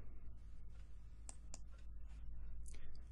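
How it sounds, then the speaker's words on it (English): Computer mouse clicks during Windows administration work, heard as a few sharp, quiet clicks spread irregularly over a faint steady hum, with no talking. "right mouse click Computer"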